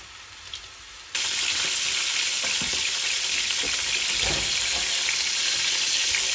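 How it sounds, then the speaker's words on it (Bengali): Chicken pieces frying in hot oil for a roast, a loud, dense, continuous sizzle that starts abruptly after a quiet second and holds steady close up, with faint stirring knocks underneath. "দুই পাশই হালকা লাল করে ভেজে নিব।"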